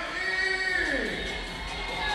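A crowd at a boxing bout cheers steadily as a steady roar, with a commentator speaking over the noise the whole time.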